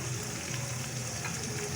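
Crushed red chili spooned into chicken handi frying in a pot, giving a steady, close sizzle of hot oil that holds unbroken and fairly loud throughout, with no talking over it.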